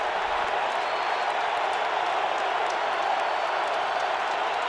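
At an NFL football stadium, the crowd at a 2010 Cowboys at Colts game roars in a dense, continuous wash of cheering and noise that holds steady and loud throughout.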